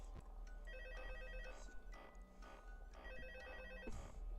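A phone rings in the Five Nights at Freddy's video game, two repeated electronic ring bursts with a pause between them over a low, constant background hum.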